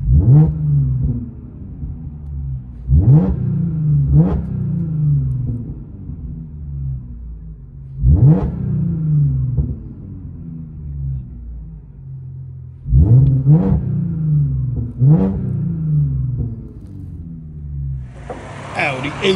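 Supercharged 2013 Audi A6 Quattro 3.0L with muffler delete and true dual exhaust, heard from inside the cabin: a deep, steady idle rumble broken by about five sharp revs that rise and fall, loud and close.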